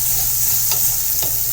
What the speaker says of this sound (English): These onions frying, or sauteing, or whatever you want to call it.